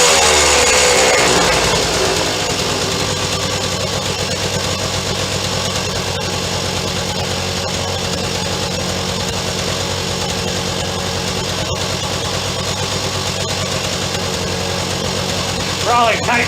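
Suzuki K11 engine idling on a new cheap Chinese carburetor, a loud, steady close rumble with constant vibration for the whole stretch, slightly rougher at the very start and end.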